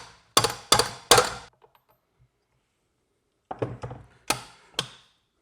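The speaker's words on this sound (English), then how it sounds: "I'm just using a socket and I'm going to give it some love taps" A socket taps a replacement gear onto a stand mixer shaft: three sharp metallic knocks, a pause, then a few quicker lighter taps and two more clear strikes, close and distinct with no talk.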